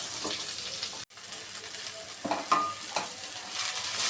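Onions sautéing in oil in a pan while a spoon stirs them, a soft sizzle broken by scraping stirs and brief clinks, close up, with a short dropout partway through.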